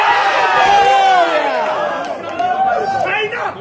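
A large crowd at a Super Smash Bros. tournament roars and cheers loudly, many voices blending into a sustained excited din with scattered shouts.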